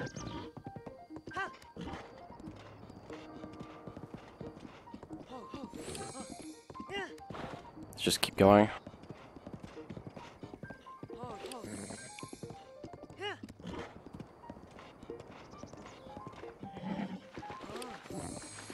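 A horse gallops in the Zelda Breath of the Wild video game, rhythmic hoofbeats running continuously with a sharp crash near the middle, while a person talks over it.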